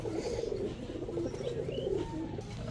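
Roadmaster pigeons coo in a steady, close series of low rolling calls, with a few faint chirps from other birds above and no talking.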